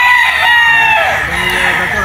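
Gamefowl roosters crow loudly and close by on a game farm at Mt. Banahaw, one long strained crow dominating and other birds clucking and crowing underneath.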